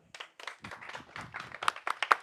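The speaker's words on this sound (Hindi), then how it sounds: "हाँ भाई, तालियां।" Clapping from a small group at a fitness and mind-training session, a close burst of uneven hand claps that grows sharper and louder toward the end.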